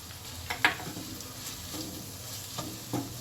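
Red chili, salt and turmeric are stirred into a masala pav mixture in a pan, giving a faint sizzle with a few scattered scraping stirs and one sharp clink of the spoon.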